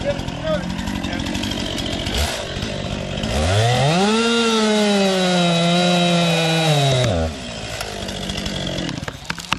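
A chainsaw revs up and bores into a tree trunk during felling in a park, a loud sustained whine rising and holding for several seconds before dropping back, with people talking around it.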